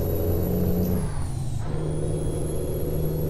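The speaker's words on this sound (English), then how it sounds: "the Jake brakes sounds great on the outside" Heavy truck Jake brake in American Truck Simulator, with a deep rumbling drone and a high whine, steady and loud throughout, briefly dipping mid-way before resuming.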